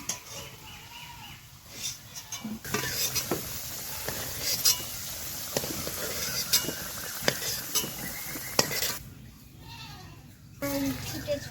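Potatoes fry in oil with turmeric for a village-style chicken kosha, giving a steady sizzle broken by scattered spoon clicks and scrapes as they are turned, with brief quieter gaps.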